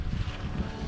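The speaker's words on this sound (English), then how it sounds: "It's very windy." Wind on the Gum Springs forest trail in Cherokee National Forest buffets the microphone in a dense, low, gusty rumble that stays loud and close throughout, with nothing else heard.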